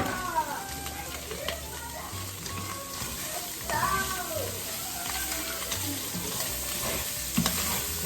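Food frying in a pan while being mixed around, a continuous loud sizzle with scraping stirring strokes, a voice talking over it and faint background noise.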